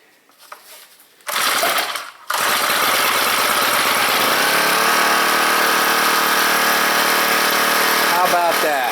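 A Honda HHT35S string trimmer in a garage fires up with a loud buzzing catch, cuts out for a moment, then restarts and settles into a steady, high-pitched running drone.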